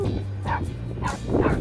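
A dog named Blackie at a South Padre Island fishing spot gives a few short barks and yips against a steady low rumble, fairly close and loud.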